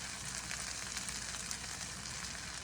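Scallions and tomatoes frying in a pan, a steady close sizzle with a constant hiss and faint crackles throughout, no voices.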